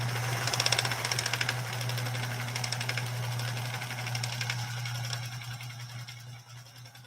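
A Pfaff 130-6 sewing machine stitches in a steady, rapid rhythmic clatter over a constant low motor hum, close and clear, easing slightly toward the end.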